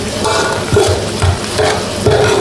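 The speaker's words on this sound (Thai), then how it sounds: "เคี่ยวกะทิให้แตกมัน" Coconut milk curry with pork neck simmering and reducing in a pot, a dense continuous bubbling sizzle with occasional stirring knocks, close and fairly loud.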